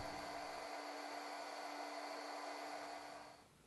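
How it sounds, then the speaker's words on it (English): Heat gun blowing steadily on a guitar pickup to soften hot glue, a constant close airy whoosh with a fan whine that tapers off at the end. "When you're using a heat gun like this, you want to keep the pickup moving so you don't melt or distort the cover."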